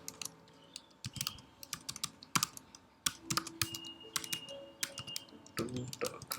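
Fingers type code on a computer keyboard in quick, irregular bursts of sharp key clicks with brief pauses, close and fairly quiet, with a voice talking at times over the tapping.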